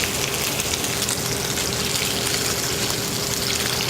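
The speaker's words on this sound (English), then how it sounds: "Scallops are getting a nice sear." Scallops sear in a hot pan in a restaurant kitchen, giving a steady, dense sizzle and hiss that runs evenly and loudly through the whole stretch with no talking.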